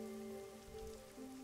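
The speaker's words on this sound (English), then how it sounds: "the rain in our town hasn't stopped falling" Rain falling in a video game, a steady soft hiss of drops spread evenly across the scene, accompanied by sustained tonal hums from the game's background music, with no one speaking.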